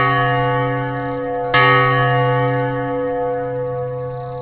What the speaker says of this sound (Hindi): चर्च की घंटी बजने की आवाज जोर से आ रही थी।